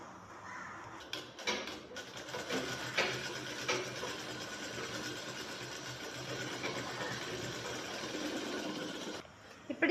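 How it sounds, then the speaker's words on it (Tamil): A sewing machine stitches a shirt's shoulder yoke with a steady, fairly faint mechanical hum and rattle for most of ten seconds, with a few clicks as it starts and stops. "இப்படியே வச்சு தைச்சிக்கலாம்."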